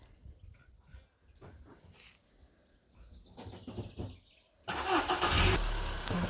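A car on the road toward Mykolaiv, Ukraine, starts with faint, uneven engine and road noise. It then swells into a loud, rushing drive sound for the final seconds.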